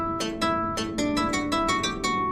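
Keyboard playing Bach's fourth French Suite jig in inverted form, the melody turned upside down, with a steady run of about a dozen crisp, bright notes in lilting rhythm, close and without talk.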